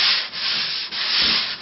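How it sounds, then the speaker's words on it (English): Steady, close-up abrasive rasping of coarse 80-grit sandpaper worked back and forth over varnished wood in continuous strokes, with brief dips between passes. "So here I'm sanding with the 80 grit sandpaper, the coarse"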